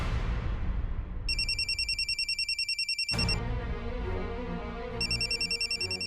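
A telephone rings with a trilling electronic bell, two ring bursts separated by a pause, fairly close and clear.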